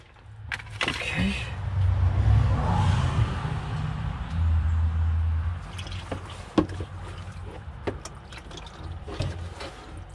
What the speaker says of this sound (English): So I poured out all the transmission fluid.